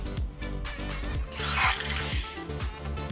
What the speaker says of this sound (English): our fashionable impact wrenches tighten bolts quickly and accurately to the correct torque level